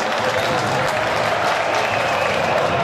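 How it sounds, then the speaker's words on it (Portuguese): Football crowd at a Derby Limeirense match roars in a dense, steady wash of cheering and shouting, a distant stadium mass of voices sustained without break. "A torcida do outro lado chegou a gritar gol."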